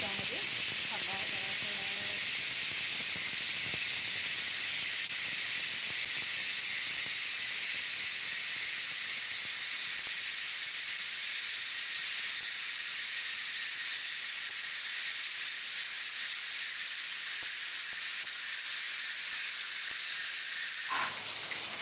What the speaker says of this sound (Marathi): माझा कुकर जो आहे ना तर दोन तीन शिट्टीमध्ये कधी शिजतच नाही